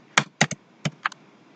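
Typing on a computer keyboard while entering a function in Wolfram Mathematica: about six close, crisp keystrokes in quick uneven bursts over a quiet background.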